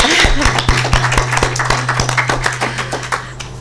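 Scattered hand clapping from an audience at a book launch, quick irregular claps at close range building into a steady ripple of applause.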